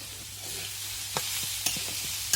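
Watermelon rind with chillies and spices is stir-fried in a pan, giving a continuous close sizzle with a few sharp scrapes of a spatula spaced out over it.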